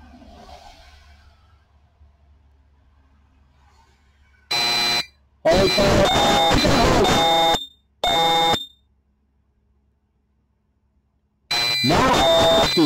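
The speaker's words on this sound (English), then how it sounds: "Now to an active fire alarm being tripped." A GE Concord 4 wireless smoke detector alarm sounds during a test, loud piercing electronic bursts in a pulsing pattern, three blasts then a pause before it resumes, with no talk.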